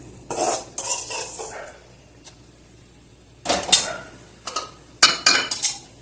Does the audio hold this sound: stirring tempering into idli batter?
yes